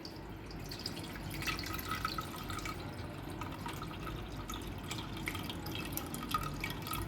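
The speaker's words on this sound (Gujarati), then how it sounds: "આ જે આપણે ઝીણો હવાલો હોય એને આપણે આવી રીતે ચાળી લેવાનું" Sour water made from raw mango is strained through a fine sieve, giving a steady close trickle with scattered drips, fairly quiet and without talk.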